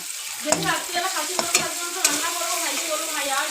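Garlic paste, green chilli and ginger paste sizzle in hot oil while being stirred for a crab curry, a steady close frying hiss broken by a few sharp scraping clicks, with no one talking.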